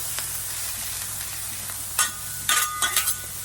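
An omelette with plenty of toppings frying on a Blackstone flat-top griddle: a soft steady sizzle, then several sharp scraping spatula strokes near the end, close and with no talking.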